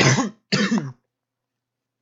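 A man clears his throat and coughs twice in quick succession, close and loud, then falls silent before a short burst starts again at the end.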